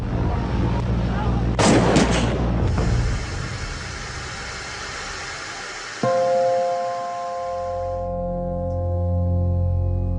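A loud burst of gunfire cracks early on amid rumbling noise, followed by a steady engine drone and a low hum.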